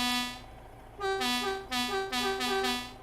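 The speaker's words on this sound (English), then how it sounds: "You've got your regular horn, and your air horn" A vehicle horn in NS Kings honks several times in bursts, a long blast first, then three shorter toots in quick succession, fairly loud and alone.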